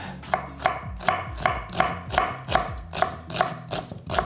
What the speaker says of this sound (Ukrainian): Приберемо редиску, просто і нарізаємо.